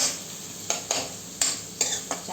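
Onions for pav bhaji sauté in a pan with a soft steady sizzle, broken by several sharp spatula scrapes and stirs against the metal, close by and without voices.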